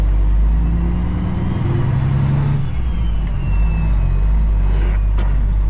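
A semi truck rolling forward after its brakes are released, a loud, close low engine rumble and drivetrain drone running steadily throughout, with a brief faint squeal near the end.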